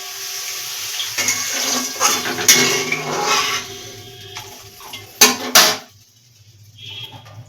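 Water is poured into a pan while chilli cauliflower cooks, giving a few splashing bursts with light metallic clinks of utensils before the sound falls quiet.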